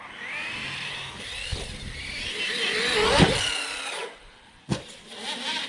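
Redcat Valkyrie RC car drivetrain cogging: a whining, grinding mechanical drone that swells and fades near at hand, broken by a sharp knock, with no talk.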